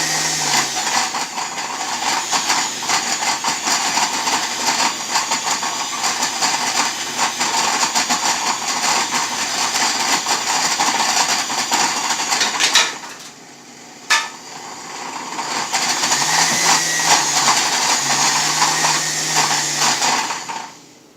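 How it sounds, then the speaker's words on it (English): A blender runs loudly and steadily, grinding sea salt and spelt flour, whirring for several seconds, stops briefly, then starts up again and keeps grinding. "I'm just going to blend that up in the blender,"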